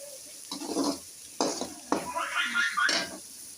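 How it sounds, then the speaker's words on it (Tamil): Egg noodles with salt being sautéed in a pan give bursts of stirring and scraping with a light sizzle, in several separate strokes, close by. "உப்பு போட்டு நல்லா வதக்குவோம்"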